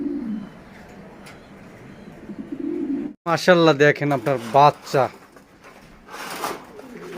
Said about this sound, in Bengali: প্রচুর পরিমাণে কবুতর আছে।